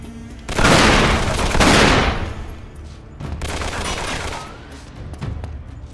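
Loud bursts of rapid gunfire in Uncharted 3, a long volley then a second burst, followed by scattered lighter shots; it has the booming, processed character of game weapons.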